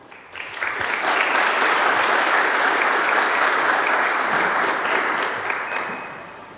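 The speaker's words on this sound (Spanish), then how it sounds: "Vamos a recibirla con grandes aplausos" Sustained audience applause in a church seminar hall, welcoming a singer about to perform a worship hymn; dense, steady clapping swells quickly and holds loud for several seconds before easing off.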